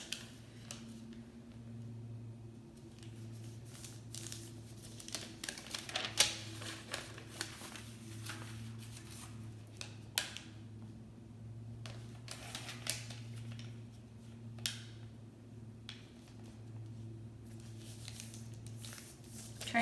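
Tyvek material is folded for a face mask with soft crinkles and crisp rustles, close to the microphone. A low steady hum runs beneath the intermittent handling noise.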